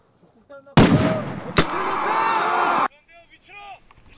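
Battlefield noise played during an army shooting drill: sharp gunfire blasts ring out, one big report followed by another and a sustained roaring burst, then fading rumble, loud and close.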